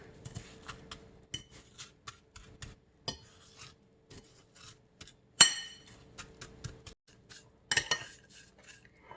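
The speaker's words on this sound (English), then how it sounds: "There's our melted butter in there. Let's just mix it in with the crackers." Utensil scraping and clinking against a bowl while melted butter is stirred into crushed crackers for a Vidalia onion pie crust, a steady run of irregular taps and scrapes with a few sharper clinks.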